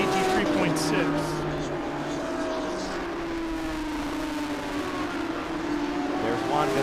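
GT race cars stream past at Road Atlanta, a loud layered engine roar with rising and falling pitches as several cars pass, while a commentator talks over it.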